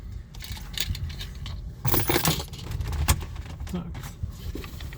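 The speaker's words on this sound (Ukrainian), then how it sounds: "Ну добре, ключі впали" Keys jangle and clink as they fall behind a car seat, a cluster of metallic rattles with a louder burst midway, close and busy against faint interior rustling.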